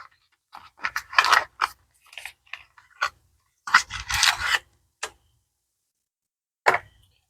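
Cardboard box holding small drone motors being torn open by hand, a run of short crackling rips and tearing bursts with quiet pauses between, close and fairly soft.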